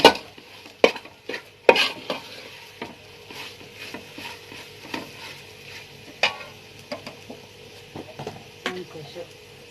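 Spice powder stirred in an oily pan, with repeated spoon scrapes and clinks against the metal over a soft sizzle, close and continuous, while a voice talks over parts of it.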